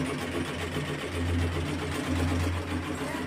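An embroidery machine stitches a design into fabric with a steady, fast mechanical whirring hum that rises slightly in places, heard up close and continuous.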